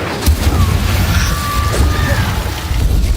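An Incendio fire spell blast in a Harry Potter-themed video game, a loud, dense burst of booming, crackling rumble that fills the whole moment, with faint whooshing tones over it.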